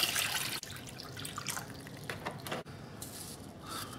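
Tap water runs into a rinsed bowl being filled for an Aerogarden, a soft steady splashing and trickling close to the microphone, briefly interrupted twice.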